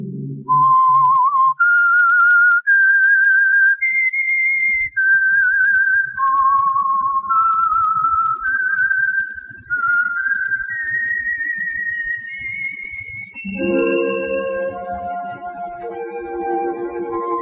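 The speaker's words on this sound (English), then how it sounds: "Let that whistle be your signal for the Whistler each Monday at this same time." A lone melodic whistle, the signature theme of the Whistler radio show, rises and falls through a slow tune of sustained notes before an orchestral swell enters underneath near the end.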